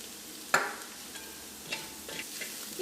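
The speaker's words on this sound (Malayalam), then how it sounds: "മഞ്ഞൾപ്പൊടിയും ഈ വെളിച്ചെണ്ണയിൽ കിടന്ന് നന്നായിട്ടൊന്ന് മുരിഞ്ഞിട്ടുണ്ട്" Turmeric powder frying with softened onions in coconut oil for duck curry, a soft close sizzle broken by a sharp utensil clink and a few light scraping stirs.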